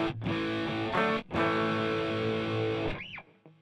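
Electric guitar through the Amplitube 5 Appetite preset, using a Marshall-style Brit 8000 head and a 4x12 cabinet, playing loud distorted chords with brief gaps, then a bending note that trails off at the end, heard alone.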